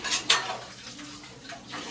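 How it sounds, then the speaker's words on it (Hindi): Dishes, pots and utensils being washed in a home kitchen, a couple of sharp clanks of metal ware up front followed by softer rattling and scraping, close by and with no voices. "चलो बर्तन तुम धो लो"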